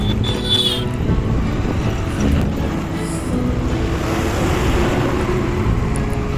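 A vehicle drives along the road to Taharabad in Maharashtra, a continuous loud engine and road rumble heard from inside, with steady traffic noise and a faint high whine near the start.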